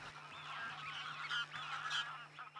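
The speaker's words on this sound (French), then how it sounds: "Les oies cendrées" Greylag geese honk continuously in a distant flock, overlapping calls blending into a noisy chorus with a faint steady hum underneath.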